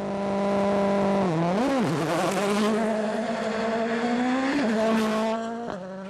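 A WRC rally car in Rally Finland accelerates hard, its engine note rising and dipping through gear changes, a loud, close, buzzing, harmonic-rich roar that fades slightly at the end.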